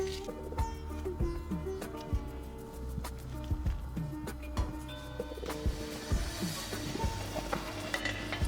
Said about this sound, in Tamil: எப்போதுமே ஜலம் நல்லா கொதிக்கணும்